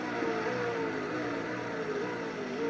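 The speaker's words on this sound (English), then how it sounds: "this is a beautiful Ferrari. It sounds just like a Formula 1 car." Ferrari 458 Italia engine in the racing game Test Drive Unlimited 2, a steady high-pitched drone held at speed, with a faint rising and falling tone that runs continuously at moderate level without any talk.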